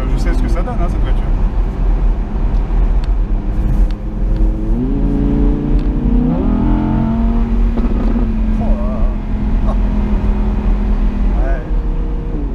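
An Audi R8 V10 Spyder engine revs and rises in pitch in winter, rumbling loudly at close range, while people talk over it.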